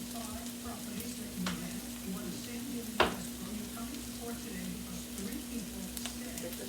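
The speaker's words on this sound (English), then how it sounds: "Okay, guys, so now I'm gonna put the sausage in." Sausage frying in a pan gives a faint, steady sizzle under a constant low hum, with a brief clatter partway through.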